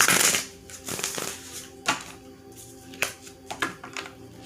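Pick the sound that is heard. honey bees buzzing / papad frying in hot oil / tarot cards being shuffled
tarot cards being shuffled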